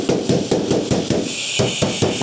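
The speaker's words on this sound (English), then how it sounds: "Except I'm also using a hammer, specifically for sheet metal." A hammer strikes sheet metal while a Porsche vent panel trim is being shaped, giving a close, loud series of evenly spaced metallic blows, about nine in quick rhythm.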